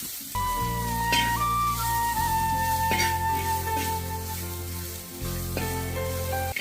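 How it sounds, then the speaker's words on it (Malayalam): Halved red onions sauté in a little oil for pork masala, giving a steady close sizzle throughout, with a sustained tonal background underneath and no talk. "ഇപ്പോൾ ചുവന്നുള്ളി ഇതിലേക്ക് ഇട്ട് കൊടുത്തിട്ടുണ്ട് ഇനി ചുവന്നുള്ളി ഒരു രണ്ട് മിനിറ്റ് നേരം ഒന്ന് വഴറ്റിയെടുക്കാം"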